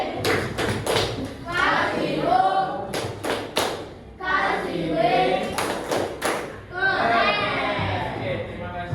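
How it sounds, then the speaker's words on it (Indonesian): Elementary schoolchildren in a classroom perform a rhythmic group clapping chant, bursts of unison claps in a patterned beat alternating with their sung, chanted voices, repeated in several cycles. "kita kasih tepuk keren lagi"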